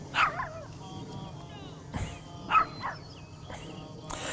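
A small dog yips and barks in short bursts, a few separate yelps with whimpery pitch rising and falling, heard indoors near a yoga session over a low background hum.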